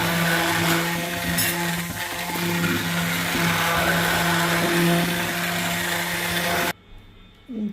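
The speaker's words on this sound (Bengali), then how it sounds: "এবার এটা ব্লেন্ড করব।" A blender whirs loudly and steadily, mixing coconut water with super chhatu, its motor droning close for several seconds before cutting off abruptly into near quiet.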